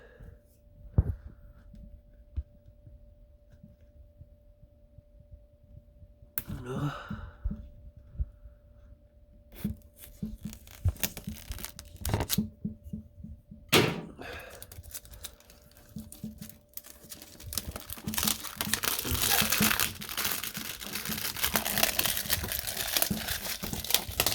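Protective plastic foil crackles and crinkles as it is peeled off during preparation to fit a door lock on a VW Touran T1 2.0; close-up rustling starts with scattered bursts and becomes a dense, loud crackle near the end.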